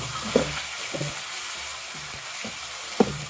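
Chicken pieces fry in a pan for a creamy white karahi, a low steady sizzle broken by a few louder pops and stirring scrapes.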